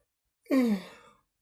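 A single human yawn rises into a drawn-out, falling moan that trails off softly, heard alone and close up.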